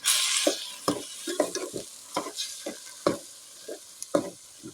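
Khichdi mixed into browned onions in a pan is stirred in repeated scraping strokes, each stroke bringing a burst of sizzle after a loud initial hiss, close and without talk.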